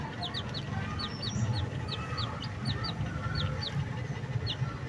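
Multicolored chickens cluck and chirp repeatedly in quick, scattered calls over a constant low rumble of background noise.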